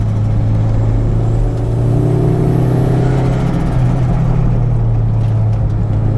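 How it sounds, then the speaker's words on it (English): A Toyota MR2 Turbo with an E153 limited-slip transmission drones loudly from inside the car, its engine holding a steady hum while shifting up into third gear on a mountain road. "Shifting back up into 3rd."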